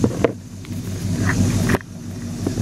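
A 2004 Toyota Tundra with a modified exhaust idles close by, a steady, deep burbling pulse with a couple of brief sharp ticks, no talking.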